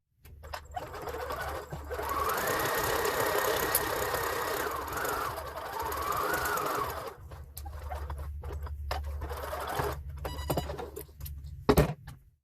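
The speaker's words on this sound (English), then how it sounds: "I'm just going to stitch my seam." A sewing machine runs at a steady clip while stitching the seam of a small fabric gnome hat, its close whirring hum carrying for several seconds before slowing and stopping, followed by light handling clicks.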